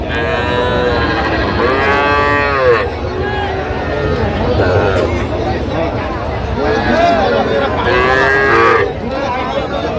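Sahiwal cattle on a farm moo repeatedly in long, drawn-out calls, close and loud, over a steady background murmur.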